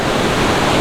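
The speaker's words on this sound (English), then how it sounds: "we're here at this one little small waterfall thing." Close, loud broadband rush of a small waterfall pouring into fast, strong current, steady and unbroken with no voices over it.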